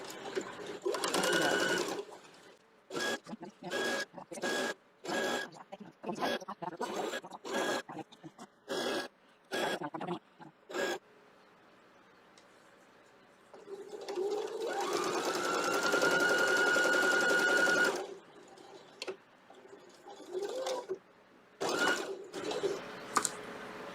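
A domestic sewing machine stitching a time machine quilt made from panels runs loud and close. It starts with quick stop-start bursts of stitching, then settles into one long steady whirring run before a few final short bursts.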